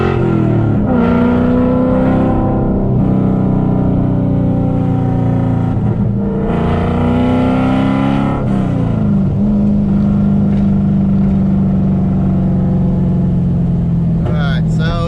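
A car engine cutting out while driving on the road, heard from inside as a steady loud drone whose pitch dips and surges unevenly, with some speech.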